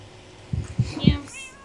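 A person's voice imitates a cat meowing during a Minecraft hide-and-seek game, with three short meows in quick succession followed by a higher, fainter trailing cry.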